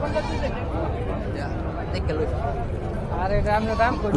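Goats bleat at a busy village livestock market (Barmi cattle market in rural Bangladesh), with bleats rising near the end over steady crowd chatter and close talking.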